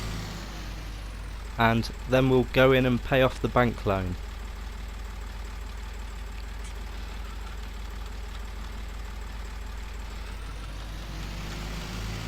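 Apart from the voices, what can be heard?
farm tractor engine being parked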